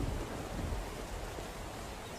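Steady rain hisses through the SCUM open-world prison game, with a low rumble of thunder underneath; the wash stays loud and constant throughout, with no voices.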